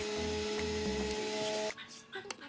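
A juicer pressing ginger, turmeric and lemon, a steady loud motor whine with rhythmic grinding pulses that cuts off abruptly, followed by faint clatter.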